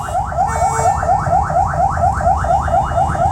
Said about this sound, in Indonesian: Banyak klakson, geng ya. Suara-suara horn.